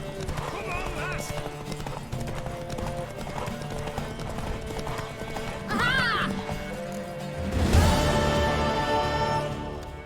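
Hooves of a horse galloping in a race in The Witcher 3, rapid clip-clop drumming under game music, with a whinny and shouted voices rising near the end.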